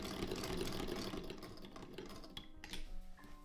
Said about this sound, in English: we can move on to stitching up our trouser legs on either side